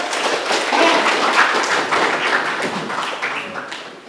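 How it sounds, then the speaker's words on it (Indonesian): A school class applauds: a dense, loud patter of many hands clapping at once that tapers off slightly toward the end. "Tepuk tangan buat kita semua."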